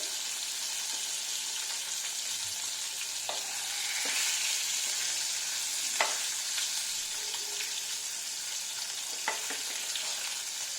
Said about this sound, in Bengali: সবসময় একটু বেশি কড়া ভাজতে নেই আমার মাছ দুদিকেই হালকা লাল লাল হয়ে গেছে